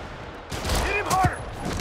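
Rocket fire in Marvel's Spider-Man Remastered on PS5, a short burst of whooshing launches and blasts rising over a steady game soundscape, with a voice speaking alongside.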